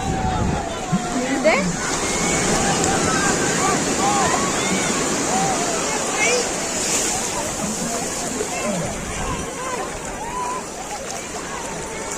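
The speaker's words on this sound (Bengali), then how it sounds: "বাবা বিশাল ঢেউ আসছে।" Sea waves break on a beach, a loud, continuous broadband rush of surf and wind with swells rising and falling, while people talk and call out over it throughout.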